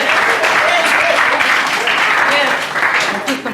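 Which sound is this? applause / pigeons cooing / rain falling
applause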